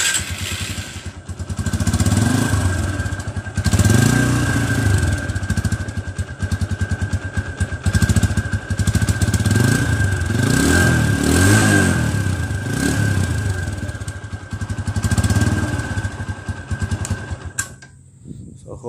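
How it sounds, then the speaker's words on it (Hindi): A TVS Apache RTR 160 motorcycle runs close by with a steady exhaust note through its silencer, blipped several times over a constant drone before it shuts off near the end. "साइलेंसर का भी मैं आपको साउंड सुना देता हूँ स्टार्ट करके।"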